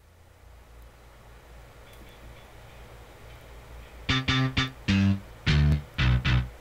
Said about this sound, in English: Distorted bass guitars are cool.